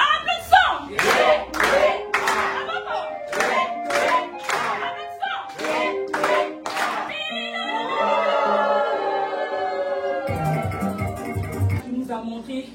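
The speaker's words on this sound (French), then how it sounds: "Donc on va applaudir. Applaudissons!" Rhythmic group hand clapping at a sabbath celebration, a series of sharp regular claps that gives way to singing voices with accompanying sound, then more mixed noise at the end.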